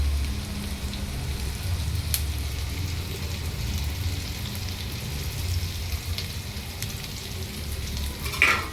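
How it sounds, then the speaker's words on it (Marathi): Green chillies dropped into hot oil with ginger and garlic for a soybean chilli dish sizzle steadily and close by, a continuous low frying hiss with faint stirring scrapes and no voices. "अद्रक लसूण टाकून झाल्यावर त्याच्यात लगेच मिरची टाकायची"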